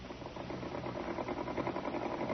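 An electric sewing machine is switched on and runs with a steady, fast mechanical whirring and rapid rhythmic chatter, heard alone through an old, band-limited radio-drama recording.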